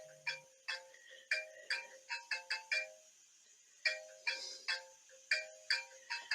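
A mobile phone ringtone plays nearby, a bright repeating electronic melody of quick chiming notes in two bursts separated by a short pause, alone without talk.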